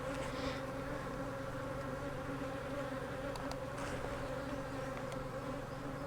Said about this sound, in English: those bees out there will start fanning